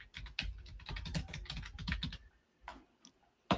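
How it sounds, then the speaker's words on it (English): Heavy, rapid clacking on a noisy computer keyboard, dense bursts of loud keystrokes close up, then a short pause before a few final taps. "There's some heavy typing right there."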